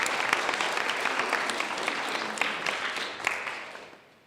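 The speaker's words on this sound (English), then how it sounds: "let's give her a round of applause on that" Audience at a university English major award ceremony applauds an absent award winner, a lively round of individual claps that stays strong before tapering off quickly at the end.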